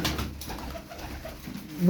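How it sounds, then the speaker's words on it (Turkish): Soft, low cooing from fancy breed pigeons murmurs continuously at close range, a gentle throaty burble with no talking. "bakın burada cins kuşlar var"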